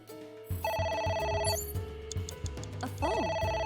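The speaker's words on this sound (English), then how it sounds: "A phone. Should I pick it up?" A telephone rings loudly in a repeating electronic bell pattern over a background of game music, in the game Will Eye Know.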